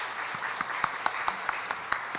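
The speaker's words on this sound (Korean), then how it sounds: "우리 하나님께 영광의 박수를 한번 올려드립시다." A church congregation applauds during a worship service, a steady wash of clapping with a few sharper claps standing out. It carries on evenly for the whole stretch with no talking.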